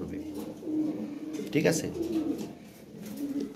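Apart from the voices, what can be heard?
farm pigeons cooing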